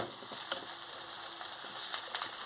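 Onions and chillies sizzle in hot tempering oil with a dense, continuous hiss, broken by a few small pops and spatters.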